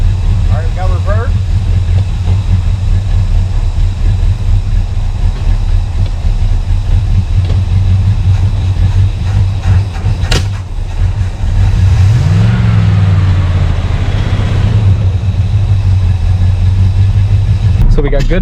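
A 1974 Plymouth parts car, revived after sitting 20 years, with its engine running at a steady loud rumbling idle throughout, close by, and a brief rev or shift midway.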